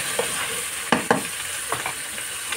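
Pork bones dropped into a hot pot, with a few short clattering stirs and a faint sizzle beneath them. The sound is close, no voices.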